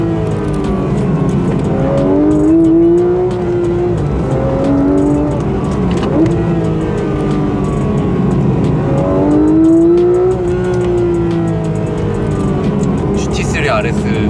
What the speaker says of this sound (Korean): 자연흡기 엔진이 주는 사운드는 덤이고